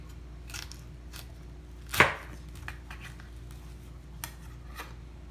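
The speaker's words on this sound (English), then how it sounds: "Just showing you guys a little bit how I use this knife." A knife cutting food on a table: scattered, quiet chopping taps over a low hum, with one louder sharp cut near the middle.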